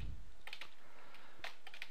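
Computer keyboard keys typed in a short burst of clicks while a command is entered in a Microsoft Exchange 2010 Management Shell, close and fairly quiet, with no talking.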